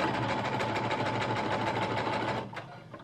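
Sewing machine running continuously for a few seconds, stitching the back seam of a Paddington top, a dense steady whirring close by that slows and stops near the end.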